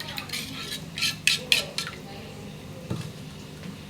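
A metal spoon adds ginger, garlic and cumin paste to a pan, giving a quick run of bright clinks and scrapes, then a few softer taps and squishy stirring sounds.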